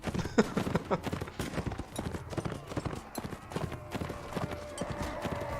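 Horse hooves clip-clop rapidly and continuously in Mount & Blade: Warband, a dense run of close, uneven hoofbeats across a battlefield with light background game sound.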